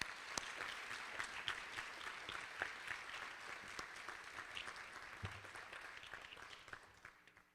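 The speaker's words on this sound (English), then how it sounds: "a round of applause for those operators who have gone above and beyond the call of duty" Applause from a transit organization's annual meeting audience honoring transit operators, a steady dense wash of many hands clapping throughout, fading slightly at the end.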